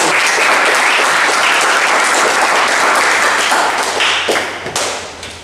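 Classroom applause for the first student group after its automotive systems presentation, a dense burst of many hands clapping at steady loudness before thinning and fading toward the end.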